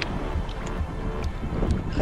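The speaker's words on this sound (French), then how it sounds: "c'est parce qu'il y a du vent" Steady wind blows across the microphone with a low, constant rumble and faint buffeting, no voices.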